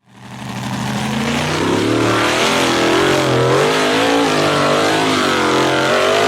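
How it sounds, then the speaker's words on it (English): Off-road SUV engine straining up a slippery rocky forest slope, a loud close roar that swells quickly from silence and holds, wavering revs as wheels spin and lose traction. "The off-road SUV attempted to accelerate up a slippery, rocky slope in the forest"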